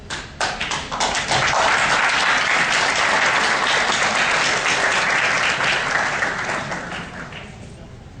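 Sustained audience applause at a juvenile criminal law conference session in Spain, opening with a few separate claps before swelling into a full, loud, even wash of many hands, then thinning and fading toward the end.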